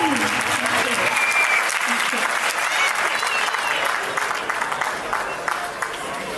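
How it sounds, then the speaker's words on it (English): A banquet-hall crowd at an Indian Republic Day celebration breaks into sustained applause, dense and loud at first, then slowly thinning toward the end. "Huge round of applause for Prakriti"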